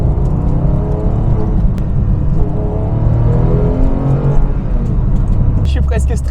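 A Porsche 996 GT3 Phase 2 Clubsport engine while driving, a loud steady drone with a shift in pitch near the end, and someone talking over it throughout.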